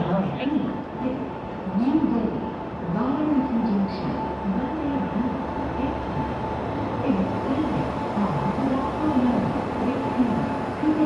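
An Indian express train pulls into a station, its steady rumble and rhythmic wheel clatter running throughout with a faint tonal hum, close and continuous, with voices in the background.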